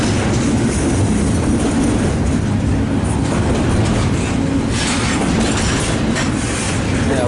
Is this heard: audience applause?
no